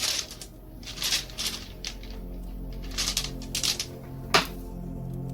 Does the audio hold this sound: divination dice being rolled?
yes